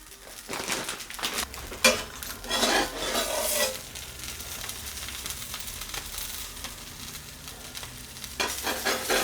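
Birria taco meat with cheese flipped on a Traeger smoker grill, sizzling steadily with a few scraping stir-like bursts, fairly loud and close, with no talking.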